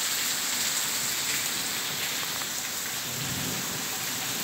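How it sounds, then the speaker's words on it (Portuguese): Heavy rain pours steadily in a storm in Ribeira do Pombal, Bahia, a loud constant hiss with low thunder rumbling faintly beneath it and no voices. "Não sei se dá para vocês captar aí os trovões."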